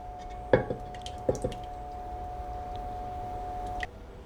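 Passata going into a pot of braising beef cheeks with red wine and beef stock: a couple of soft, wet plops close by, then a quiet stretch with a faint steady hum and one last small splat, with no talking.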